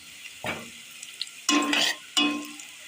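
Onions browning dark in a pan sizzle under a few bursts of stirring, three distinct scraping swishes over a soft background fry.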